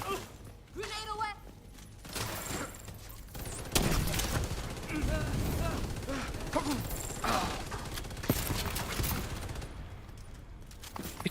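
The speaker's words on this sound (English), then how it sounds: "It's a machine gun." Machine gun fire in The Division, with repeated loud bursts and a dense, sustained stretch of gunfire, close and punchy, as someone talks intermittently over it.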